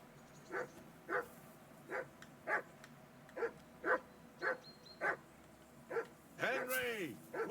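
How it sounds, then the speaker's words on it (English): A dog in Kingdom Come: Deliverance II barks about ten times in an even, steady rhythm at moderate distance, ending with a higher whining yelp, set against a quiet game ambience. "Whistle at that mutt of yours to stop barking."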